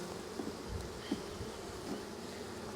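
Honeybees buzz inside an opened hive in August, a dense, steady, close-up hum that swells slightly now and then, with no voices.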